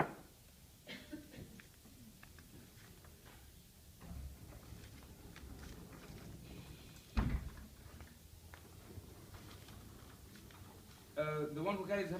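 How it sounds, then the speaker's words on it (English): The wooden doors of a Torah ark in a synagogue are shut, giving a single sharp knock-like thud partway through, set among faint shuffling and quiet room noise, with a voice rising near the end. "and close the doors"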